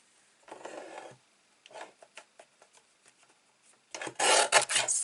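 A paper guillotine slicing through cardstock for a handmade card, heard as a few sharp rasping cuts in separate bursts, the loudest and longest strokes coming near the end, with no talking.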